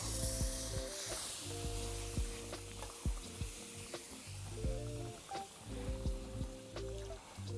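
A spatula stirs smothered oxtail gravy in a pan, a steady sizzle and frying hiss with repeated soft scraping strokes, close and continuous, over faint background hum.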